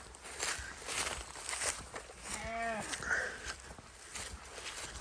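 A lamb on a farm gives one short, clear bleat in the middle, amid steady rustling and shuffling movement nearby.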